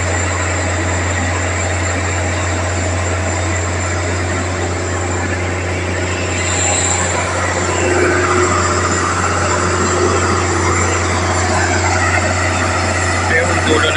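A Philippine National Railways train sits at Alabang end station, its engine giving a loud, steady, low drone that runs throughout with little change in level.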